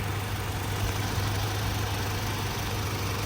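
A 2011 Toyota Fortuner with a 2.7 VVTi engine idles steadily, a close, even low hum and rumble that holds without change.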